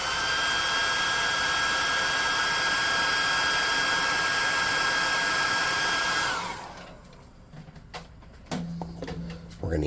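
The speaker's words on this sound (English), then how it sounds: "we're going to take this plus 2 hot air gun and burn him." Hot air gun blowing on low heat over a miniature figure's eyebrows, a loud steady whooshing hiss that cuts off abruptly near the end, followed by faint handling clicks.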